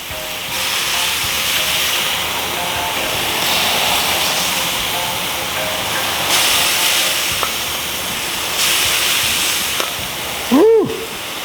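Chicken thighs sizzle on a hot Blackstone griddle with a loud, steady hiss close by, swelling and easing a little, with a brief knock and a short vocal sound near the end.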